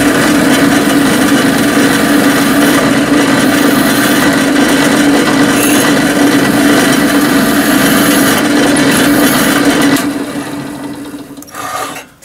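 Drilling spot marks in metal for a gauge 1 live steam model: a loud, steady close-up whir of a small drill biting into metal that holds for about ten seconds, then winds down and stops.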